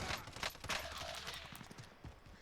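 Rapid bursts of gunfire crackle through a battle royale video game match, a dense volley of overlapping shots over roughly two seconds that tapers near the end, loud and close with no talk over it.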